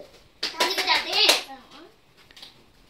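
A family at a child's birthday gathering claps in quick, rapid bursts for about a second, mixed with children's excited voices and chatter, close and fairly loud, then fades into softer talk.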